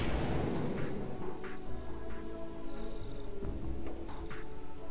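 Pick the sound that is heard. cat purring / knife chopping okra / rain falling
cat purring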